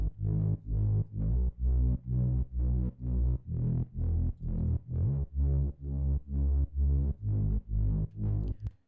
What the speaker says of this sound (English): So one of the main elements in the break is actually a respace.